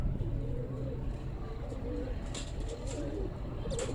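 Black desi pigeons on a rooftop, soft repeated cooing near at hand over faint background noise, with a person talking.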